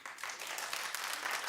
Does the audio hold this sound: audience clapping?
yes